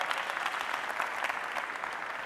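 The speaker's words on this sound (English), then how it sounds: "Let's give him a round of applause." Audience applause for a college football offensive lineman from Elder High School in Cincinnati, Ohio, during a team introduction; steady, dense clapping fills the whole stretch at moderate level with no talk over it.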